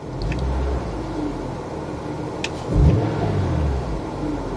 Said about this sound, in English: Let's just give it a rev.